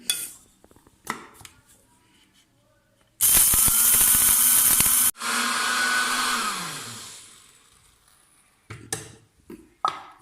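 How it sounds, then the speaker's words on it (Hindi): A home electric spice grinder whirs at high speed as it grinds coriander seeds, loud and close, in two bursts of about two seconds each. The motor then winds down, and a few clatters and clicks of the grinder follow. "धनिया भी इसी ग्राइंडर में हम पीसेंगे।"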